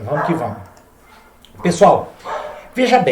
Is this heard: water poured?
no